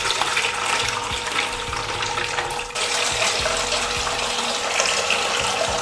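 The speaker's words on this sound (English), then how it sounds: "I'm gonna throw the water inside" Water pours into a slushie machine during its cleaning cycle, a loud continuous splash and rush that briefly dips near the middle and then carries on, with the machine's low hum underneath.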